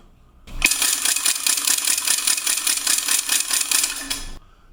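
A homemade wooden Ratchetgator ratchet toy rattle spins for about four seconds, a fast, dry clattering of rapid clicks, close and fairly loud.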